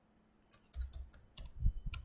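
Typing text on a computer keyboard, a quick irregular run of close, crisp key clicks and taps in a quiet room, no voices.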